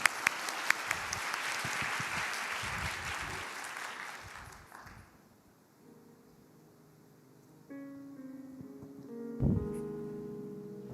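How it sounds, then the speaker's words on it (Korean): A youth-group congregation at a church service applauds to welcome a worship song, sustained clapping for about five seconds that dies away into quiet before soft instrumental music begins. "우리 박수로 청해 듣도록 하겠습니다"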